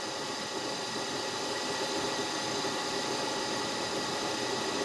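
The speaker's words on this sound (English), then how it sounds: "When it reaches the end, it moves the motor for a while" Steady whirring drone of a surface grinding machine's table-feed motor running continuously, even and close, with a faint mechanical buzz and no voices.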